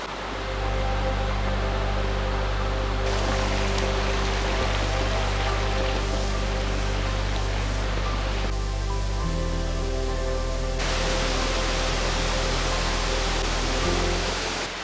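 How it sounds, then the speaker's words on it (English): Heavy broadband roar of a waterfall in Martinique swollen by recent rain, a steady loud rush of falling water continuing without pause and without voices. "The rainfall means that the waterfall is really intense at the moment."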